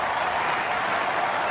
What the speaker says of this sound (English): Crowd's going crazy.